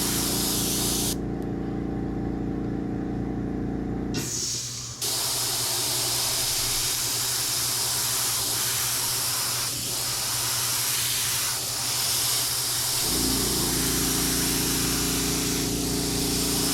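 An airbrush sprays paint in a long, steady hiss that shifts in tone as the nozzle moves and briefly cuts out, with a low compressor hum running underneath.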